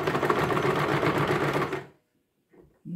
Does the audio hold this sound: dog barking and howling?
no